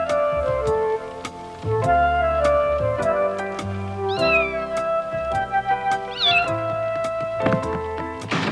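An animated cat meows and yowls again and again, loud and close, with sharp rising cries over busy cartoon music and thumping hits.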